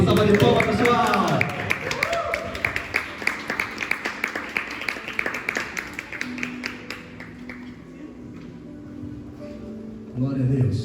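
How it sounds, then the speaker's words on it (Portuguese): Church congregation applauding for a bishop's entrance, a dense burst of clapping that thins into scattered claps, with voices and cheering mixed in and a brief swell near the end. "O Bispo Rodinei, uma salva de palmas, pessoal!"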